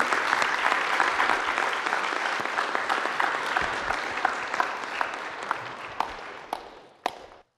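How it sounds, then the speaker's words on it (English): A meeting audience applauds with loud, dense clapping that slowly thins out, ending in a few scattered final claps. "big round of applause, guys"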